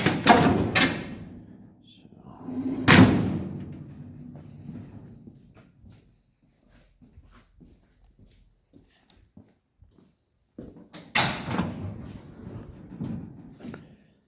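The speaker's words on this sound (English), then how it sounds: "The doors and everything do work." Doors of a classic Chevy Cameo pickup, a rare truck body sitting crudely on a newer chassis, open and shut with sharp clunks near the start, around three seconds and again near eleven seconds, separated by quiet stretches.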